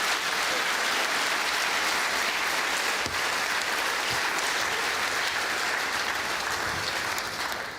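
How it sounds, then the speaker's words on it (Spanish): A congregation at a church retreat in Chiapas, Mexico claps in steady, dense applause that fills the whole stretch at an even level. "Dele un aplauso al Rey bendito"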